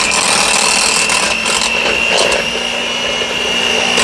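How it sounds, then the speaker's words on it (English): Electric hand mixer whipping mashed potatoes, a steady, close motorized whir with a thin whine that churns continuously through the whole stretch, no talking. "then I switch to my hand mixer so that they get super creamy and smooth"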